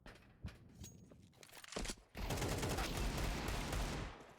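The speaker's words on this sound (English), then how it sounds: "Drew and Eth with the hand cannon" Hand cannon pistol fire in an esports shooter match, heard as sharp scattered shots followed by a dense, sustained burst of loud gunfire with no talk.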